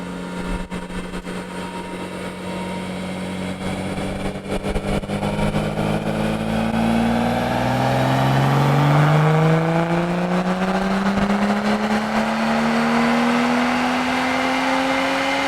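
A BMW 435i engine revs hard on a dyno and holds at high speed, its pitch climbing steadily in a loud, continuous drone with no talking.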